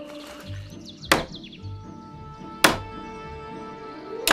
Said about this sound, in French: ce marteau n'est pas du tout approprié